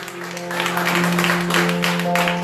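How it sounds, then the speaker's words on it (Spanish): A church congregation applauds steadily in a dense, sustained patter, with sustained musical tones underneath throughout. "Denle un aplauso al Señor"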